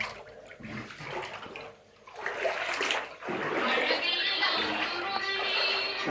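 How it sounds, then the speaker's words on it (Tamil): Floodwater from heavy rain pours into a house, a steady rushing and splashing flow that swells louder partway through and keeps going, close by. "எங்கள் வீட்டில் எந்த அளவுக்கு தண்ணி உள்ளே போயிருக்குன்றத பாருங்கள்"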